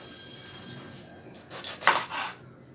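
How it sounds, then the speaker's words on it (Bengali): A knife slices through a large eggplant, with a couple of close, brief cutting and thudding strokes near the end, preceded by quiet room tone and a faint steady whine. "বেগুন দুটোকে আমি প্রথমে আপনাদেরকে একটু কেটে দেখাবো।"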